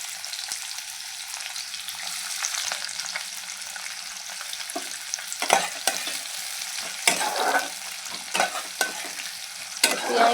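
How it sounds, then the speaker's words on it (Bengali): Chopped onion and fennel seeds fry in hot oil, with a soft continuous sizzle and repeated scraping and stirring strokes that grow busier toward the end; no voices. "এতে দিয়ে দেবো এই পেঁয়াজ কুচি"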